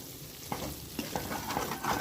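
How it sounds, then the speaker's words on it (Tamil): Water poured into a pan of sizzling paneer bhurji gravy, crackling and hissing with a few sharp spits and stirring scrapes, close by. "இப்போ இதில் நம்ம தண்ணி சேர்த்துக்கலாம்."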